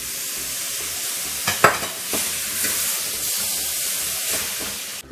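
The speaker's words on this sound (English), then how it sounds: "our ground meat is cooking for a few minutes" Ground beef for stuffed bell peppers fries in a pan, giving a steady close sizzle and hiss with a few sharper spatters and stirring scrapes partway through, and no voices.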